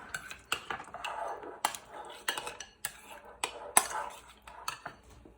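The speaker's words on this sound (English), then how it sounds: "Then you're gonna put the yogurt in a bowl. Then you can kind of mix it up." A spoon clinks and scrapes against a bowl while yogurt is mixed, giving a quiet, irregular run of taps and knocks close by, with no voices.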